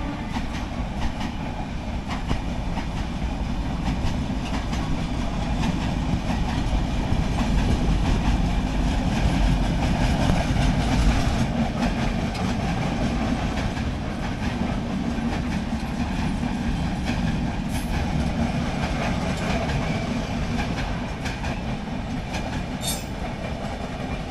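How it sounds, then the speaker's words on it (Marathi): The Netravati Express passenger train rumbles past up close, a heavy continuous roar with rhythmic clatter of wheels on rails, and a brief high squeal near the end. "तीच ट्रेन इथून जात आहे, नेत्रावती एक्सप्रेस"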